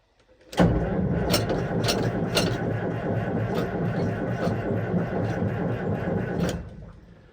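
A Mack R686ST semi tractor's diesel engine cranks on the starter for about six seconds without catching, a loud, steady grinding churn that starts abruptly and then winds down, close by.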